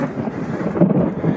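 Low, rumbling thunder rolls through a mountain thunderstorm in the Balkans, a brief dull swell mixed with wind and rain noise, with no talking.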